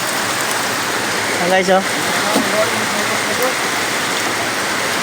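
Heavy typhoon rain pours down steadily in a dense hiss around a flooded home, with a few brief words and a short exclamation spoken over it.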